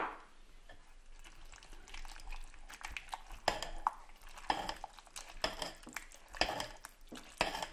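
A utensil mixes a tomato tarragon sauce in a bowl, giving quiet, irregular scraping clinks and soft wet stirring sounds close up.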